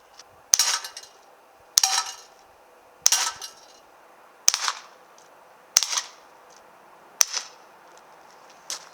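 An Umarex Glock 19X CO2 air pistol fires six sharp, snappy shots at an even pace of about one every 1.3 seconds, each crack trailed by a brief metallic rattle, close and clear in a quiet setting.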